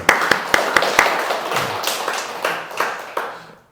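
Scattered hand clapping from a church congregation during Sunday worship, sharp irregular claps that thin out and fade toward the end.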